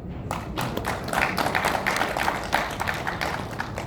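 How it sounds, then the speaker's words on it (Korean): An audience gives a round of applause, with close, dense claps in a busy irregular patter that stays fairly even in loudness from start to finish. "이 분들한테는 큰 박수 한번 주시죠"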